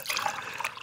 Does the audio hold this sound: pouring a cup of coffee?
yes